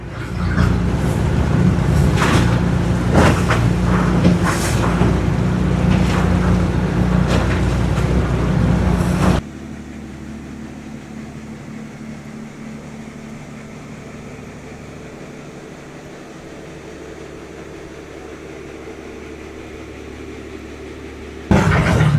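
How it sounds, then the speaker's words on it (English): A paddle boat on the Murray River: a steady low engine rumble with water wash churns loudly, then drops to a quieter idling drone before surging again at the end. "What a great little paddle boat."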